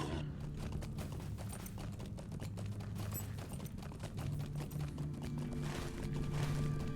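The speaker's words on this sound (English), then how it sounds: "Let's get back on a horse so we can travel quickly" Galloping horse hooves in the online game Lord of the Rings Online, a steady dense clip-clop rhythm running throughout beneath a busy game soundscape with low hum, no talk.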